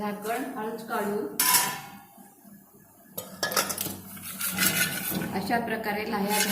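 Metal lid lifted slowly off a pot of popping corn over a low gas flame, with clattering pan and utensil clinks and someone talking over it.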